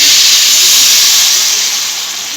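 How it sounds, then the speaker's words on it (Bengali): Hot water pours into a hot pan of Gobindobhog rice, potatoes and spices for muri ghonto, giving a loud, steady sizzling hiss of steam that holds throughout and eases slightly toward the end. "এখানে আমি জলটা গরম করে নিয়েছি দিয়ে দিচ্ছি জলটা"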